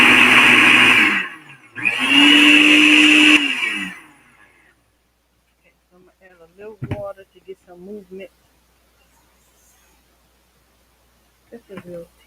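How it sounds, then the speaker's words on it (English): Countertop blender whirring loudly as it blends almonds into almond milk, two strong bursts with a short pause between, followed by quiet stretches with scattered clatter and faint talk. "So we're gonna blend this up until we get"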